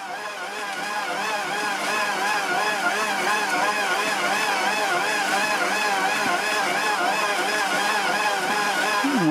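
Motor of an ALDI Ambiano MD 18684 800 W stand mixer kneading a kilo of flour at speed 1, a continuous loud whine with a rhythmic wobble in pitch, a voice speaking faintly underneath.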